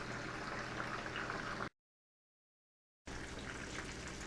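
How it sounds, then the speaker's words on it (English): Fish frying in hot oil, a steady bubbling sizzle that runs continuously, cuts out to silence for over a second, then resumes just as before. "All we're gonna do is watch this fish fry in the oil on one side"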